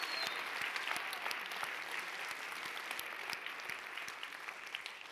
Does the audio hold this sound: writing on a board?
no